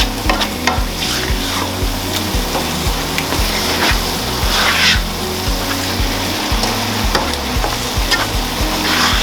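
Seasoning and tomatoes simmering and frying in a pot for a seafood stew, with steady close sizzling and repeated stirring scrapes in a rhythmic pattern throughout.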